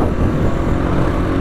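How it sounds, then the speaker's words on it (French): A four-wheeler ATV rushes past on a trail, a loud, steady engine roar that fills the whole moment with broadband rumble and no speech. "on entend le monde de 4 roues qui vient de passer là"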